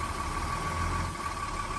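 Automatic truck idling in drive with the gas pressed during a CDL parking-brake test, a steady low engine hum with a faint tonal whine and no talk.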